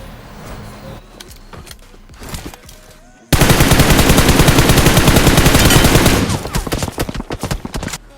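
Gunfire in the mobile battle-royale game BGMI (Battlegrounds Mobile India): sparse shots, then a loud sustained automatic burst of rapid fire lasting about three seconds, followed by several shorter staccato bursts.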